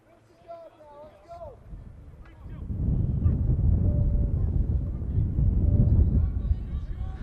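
Strong wind rumbles steadily across the microphone at an outdoor high school baseball game in the second half, following a few faint calls or honks at the start.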